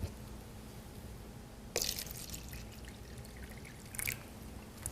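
Tap water poured in two short splashing bursts over a quiet room hum, the first longer and the second brief, with no talking.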